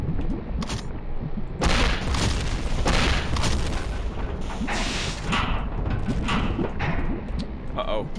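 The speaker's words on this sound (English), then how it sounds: "I heard an explosion, which would have meant another Forge Elemental" Booming explosion of a Forge Elemental enemy in the video game Hedon, dull low thuds rolling under continuous game noise and a talking voice for several seconds.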